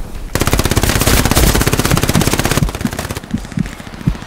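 Rapid automatic gunfire from a weapon in the Hell Let Loose war game on the Kursk map, a loud continuous burst of shots followed by a few separate spaced shots.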